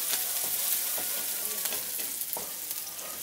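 Chopped ginger, garlic and green chilli sizzle steadily in hot oil in a pan, with soft scraping strokes of a spoon stirring them throughout.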